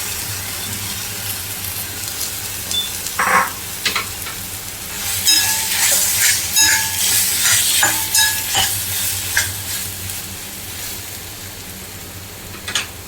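Potatoes sizzle and fry in a pan for a street-style crispy toast sandwich filling, with bursts of hissing and clinking stirring, loud and close, no talk.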